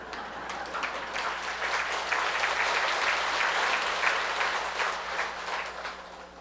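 Sustained applause from an audience at a Buddhist Dharma talk, a dense, even wash of many hands clapping that holds steady throughout.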